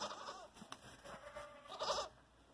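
A pygmy goat bleats in short wavering calls close by, with a louder bleat near the end, over a busy outdoor background.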